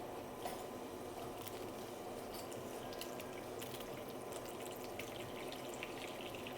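Running cold water splashes and trickles through a sieve of bulgur, with faint squishing and dripping, steady and fairly quiet, no talking.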